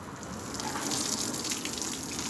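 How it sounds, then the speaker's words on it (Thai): Water gushing and splashing steadily over an elephant during its bath, a continuous close rush of pouring water with no voices. "อาบน้ำให้ทั่วตัวก่อนครับอาบน้ำให้ทั่วตัวก่อน"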